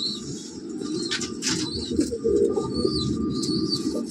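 An old-generation black-green pigeon coos in low, repeated murmurs, with some higher chirps and faint rustling around it.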